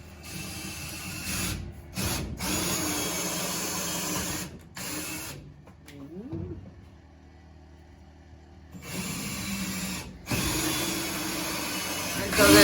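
A power drill drives screws into wooden furring strips on a school bus ceiling, sounding in several short whirring bursts separated by quiet pauses, moderately close, with a voice speaking at times.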